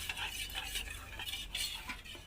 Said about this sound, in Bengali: এটা একটু ভালো করে ঘুটিয়ে নিলাম